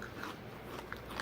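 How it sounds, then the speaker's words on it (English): Someone bites and chews a crunchy Taiwanese cracker close to the mic, giving a few quiet, crisp crackling crunches over a low background hiss. "great crunch. You hear that?"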